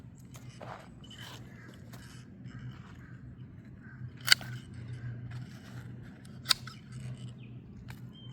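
Hand pruners cut a storm-damaged fig branch in an orchard, giving two crisp, close snips over a low steady outdoor background.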